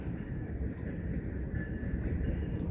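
A train going by near a bench, a steady low rumbling roar with dense rattling texture, fairly even and continuous, heard alone without talking.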